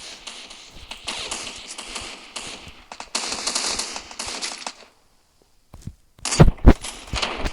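Video game gunfire in bursts of rapid automatic shots, two long rattling volleys, then a pause and a few close heavy single shots.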